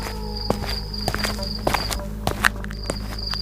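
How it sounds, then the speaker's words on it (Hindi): Footsteps on a hard floor approaching from behind, several distinct, fairly close steps with a faint steady hum and chirping behind them, no voices. "तभी उसे अपने पीछे किसी के कदमों की आहट सुनाई दी"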